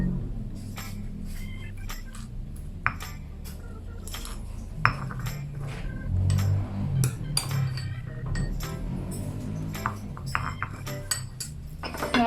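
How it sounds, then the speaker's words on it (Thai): Shrimp paste and garden bird's eye chillies pounded in a mortar: sharp knocking and clinking pestle strikes in an uneven rhythm, close and moderately loud, with no speech. "เริ่มตำกะปิเลยนะคะ"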